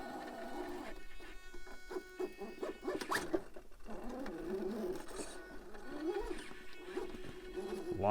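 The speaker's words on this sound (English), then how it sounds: "My servo's struggling" A Savox servo on an RC crawler with an Element Stealth transmission strains and whines in uneven bursts, its pitch rising and falling amid gritty clicks and scrapes, close and moderately loud.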